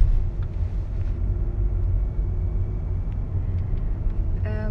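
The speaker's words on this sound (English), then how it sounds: "driving through the streets" A car drives through the streets of Chernobyl town, its engine and road rumble steady and close throughout, with a few faint higher clicks and a brief rattle near the end.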